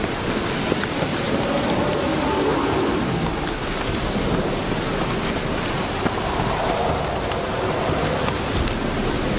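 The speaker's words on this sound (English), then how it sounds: "Looks like rain." Steady heavy rainfall in the open-world fantasy video game The Witcher 3, a continuous dense hiss of falling rain with a faint rumble of distant thunder, no voices over it.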